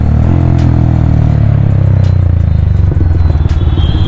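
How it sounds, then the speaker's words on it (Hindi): A Yamaha MT 15 motorcycle idles and revs up close, its exhaust producing a loud, steady low rumble with a throbbing pulse, heard alone without talk. "एग्जॉस्ट तो भाई साहब जो साउंड"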